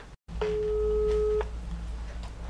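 A telephone line tone sounds while a random number is dialed: after a short dropout, a single steady electronic ring tone holds for about a second over faint line hiss, then stops.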